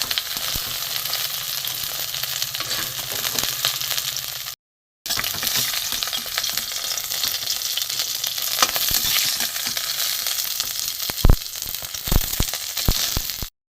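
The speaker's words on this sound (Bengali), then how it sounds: "ঢ্যাঁড়সটা ভাজবো ভালো করে" Okra frying in hot oil in a pan, a continuous bright sizzle broken by a short gap, with occasional scraping and clinks of a spatula stirring, close and alone.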